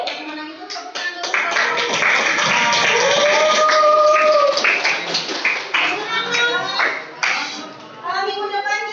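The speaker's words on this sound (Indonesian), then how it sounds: "Yang menang itu tepuk tangan dulu." Classroom applause for a winning quiz group, a burst of children clapping that swells and fades over several seconds, mixed with kids' chatter and voices throughout.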